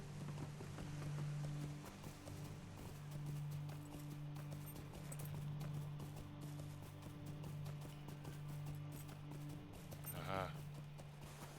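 Mountain goat mount hoofsteps in the game Lord of the Rings Online, a steady clip-clop of hooves over a droning game soundscape, with a voice talking briefly.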